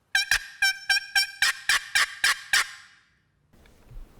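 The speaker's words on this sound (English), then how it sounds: "There's a freaking turkey gobbling right there." A wild turkey gobbles outdoors during a hunt, a rapid burst of about ten sharp, evenly spaced gobbling notes that is loud and fairly near, then fades into quiet ambience.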